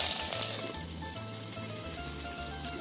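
Button mushrooms sizzling in a covered pan on a Shmel primus stove outdoors, a steady soft frying crackle over the low, even roar of the burner, continuous and close.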